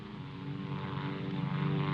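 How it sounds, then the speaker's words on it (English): A propeller plane drones overhead in a 1953 war film, a steady, loud engine hum with a rough buzzing texture that holds at even strength throughout. "But maybe they saw a plane back there."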